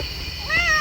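A cat gives one short rising meow, close and clear, after a brief quiet stretch of faint room sound.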